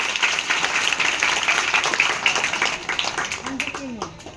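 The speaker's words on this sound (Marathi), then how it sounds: "जोरदार टाळ्या" Loud applause from a crowd, dense clapping sustained for several seconds before tapering off, with a voice briefly audible near the end.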